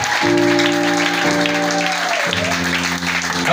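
Church congregation applauding after a call to praise God, loud sustained clapping that fills the room, with a steady tonal music or keyboard drone underneath.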